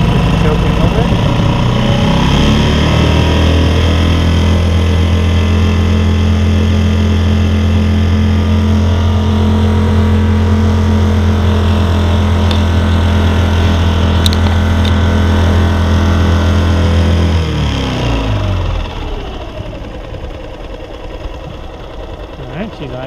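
A small 5hp outboard boat motor runs steadily at idle with a low, even droning hum for about eighteen seconds, then drops off and quiets near the end.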